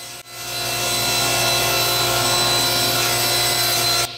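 A table saw rips a thin wood strip against the fence for a scale model Apache attack helicopter build, a steady loud whine and rasp running almost continuously after a brief start, then cutting off near the end.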